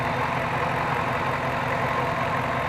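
A stock LMG 5.3 V8 swapped into a Jeep Wrangler with a stock radiator and cooling fan idles steadily and evenly at moderate volume, a continuous low rumble with no talking.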